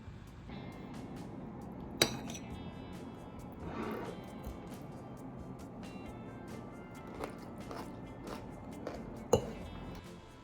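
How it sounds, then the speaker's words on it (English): Cutlery and dishes clink as leftover pasta arrabbiata is eaten at home in Tokyo, with scattered light taps and a couple of sharper chinks over a quiet room. "I'm going to eat last night's leftovers. I'm having some apple cider vinegar and pasta arrabbiata."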